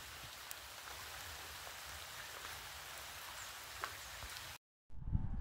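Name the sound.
rain falling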